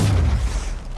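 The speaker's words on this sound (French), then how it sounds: "Tirez sur cette cellule de carburant." In Mass Effect Andromeda, a gunshot hits a fuel cell and sets off a deep, booming blast that rumbles loudly and then fades within a second.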